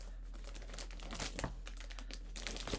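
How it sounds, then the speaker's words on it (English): A sewing subscription box package is opened with scissors, with soft crinkling of packaging, snips and rustles in short bursts, close and fairly quiet, with no talk. "I'm just going to get my scissors and open my package."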